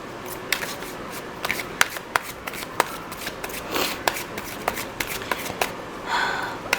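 Tarot cards are shuffled and three are drawn, with a close series of crisp card flicks and snaps, intermittent riffling bursts and soft handling in between.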